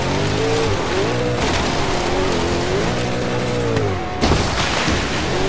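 Bugatti Veyron racing through snow on Blizzard Mountain in Forza Horizon 3, its engine note climbing and dropping through gear shifts, with a loud crash or boom near the end amid hissing snow spray.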